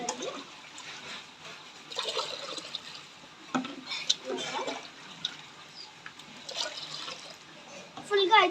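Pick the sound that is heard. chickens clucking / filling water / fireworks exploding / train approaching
filling water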